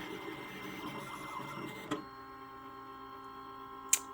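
A Siser Juliet cutting machine runs a cut job with a steady mechanical whir and hum, shifting to a quieter tone partway through, with a brief click near the middle and a short sharp tick at the end.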